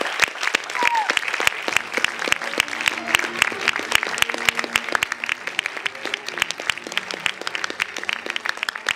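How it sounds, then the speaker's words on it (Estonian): An audience at a youth work awards ceremony in Tartu breaks into sustained, dense applause, many hands clapping steadily and loudly throughout, with some voices underneath. "Palun suurt aplausi!"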